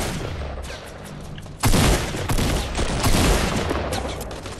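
Rapid bursts of gunfire in Fortnite as players shoot at the cube, loud and continuous after a quieter opening, with a faint voice partly under the shots.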